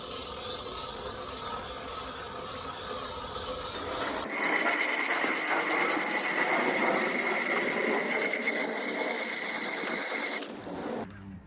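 Soft Krend render on a wall is scratched back, a steady close rasping scrape that shifts to a brighter, harsher texture midway and then stops near the end.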